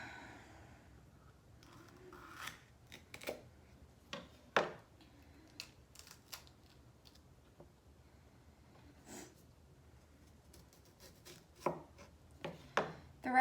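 A knife chops jalapeños on a cutting board in irregular bursts of crisp, close taps, some single and some in quick runs, over a quiet background with no talking.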